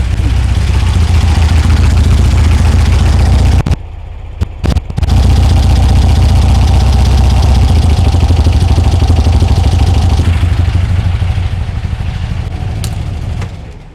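A 1964 VW Beetle engine fitted with a dual EMPI carburetor kit runs loud and close at a fast idle, with a steady rhythmic chugging, a brief stumble and sputter partway through, then a smooth return to running.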